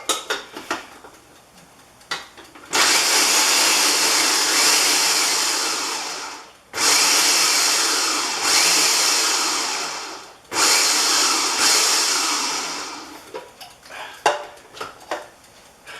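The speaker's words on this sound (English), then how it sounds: "I put them in my food processor, and I literally turn them to dust." A food processor grinds plain walnuts to a fine dust in three loud whirring bursts of a few seconds each, separated by short pauses with faint clatter and rattling around them.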